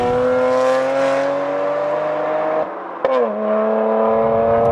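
A BMW 1M sports car engine revs hard and holds a loud, rising tone, drops briefly during a gear change, then climbs again, close and powerful.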